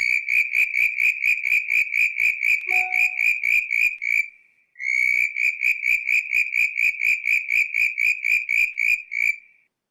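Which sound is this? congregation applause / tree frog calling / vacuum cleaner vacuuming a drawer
tree frog calling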